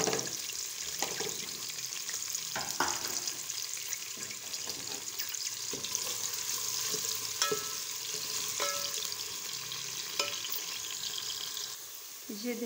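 Onion frying in a spoonful of oil on a stovetop, a steady close sizzle and crackle running throughout with occasional sharp pops and light stirring clatter.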